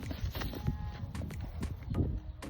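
A horse walking outdoors, hooves clip-clopping in an uneven walking rhythm, fairly close, over a soft wind-like background.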